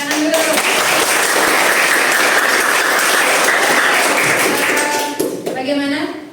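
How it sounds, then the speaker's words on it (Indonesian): Audience applause for a class or school gathering: loud, dense clapping from a group, steady for several seconds before thinning out, then a voice speaks near the end. "Kencengnya tepuk tangan dulu."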